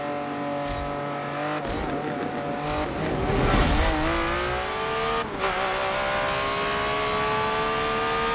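Lamborghini Aventador engine in Forza Motorsport 7, lap racing at night at Virginia International Raceway, loud and close, revving steadily with sharp gear-shift dips and brief tire squeal.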